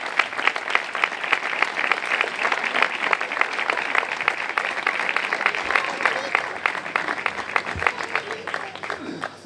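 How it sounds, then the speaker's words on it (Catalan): Audience at a local festival presentation gives a strong round of applause to welcome a speaker, a dense, sustained burst of many hands clapping at close range. "rebem-lo amb un fort aplaudiment"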